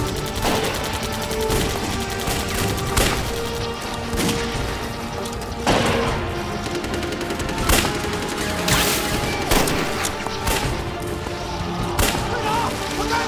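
Gunfire in a battle scene of a Chinese war drama, a dense continuous clatter of rifle and machine-gun shots with scattered heavier bangs, loud and unbroken throughout, mixed with background score.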